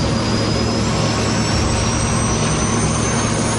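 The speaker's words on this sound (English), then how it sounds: "The plane lifts off, less than 3 minutes after it started to taxi." An ATR turboprop airliner roars loudly and continuously on its takeoff run, with a steady broadband engine and propeller drone and a faint rising whine, no voices.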